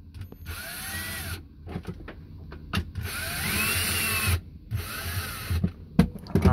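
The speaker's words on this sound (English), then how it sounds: "first things first is to drill the last screw in on this" A power drill whirs in three bursts of rising and falling pitch, driving a screw on a sailboat, with clunks and handling noises between bursts.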